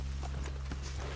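Horse hooves clip-clopping in Red Dead Redemption 2, soft irregular hoof taps over a steady low hum, with no voices over them.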